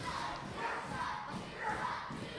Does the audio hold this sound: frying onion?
no